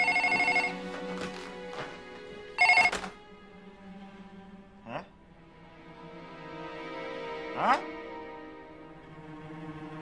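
A telephone rings in short repeated bursts inside an apartment, with people talking over and between the rings.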